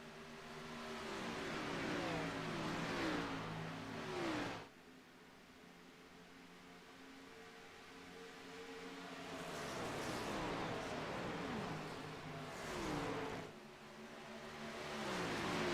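Onboard engine of the number 42 race car at Charlotte, a loud, continuous droning roar that rises and falls with repeated revving and shifting, with sharp drops in pitch between sweeping climbs, close and alone.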